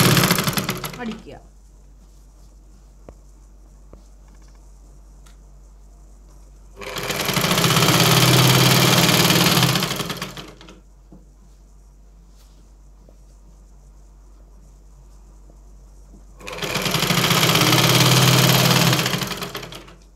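A sewing machine stitches an invisible zip into a churidar top. It runs in two loud bursts of a few seconds each, separated by quiet pauses.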